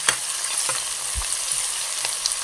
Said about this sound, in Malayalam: ഒരു തവി ഇട്ട് ഒന്ന് ഇളക്കി കൊടുക്കാം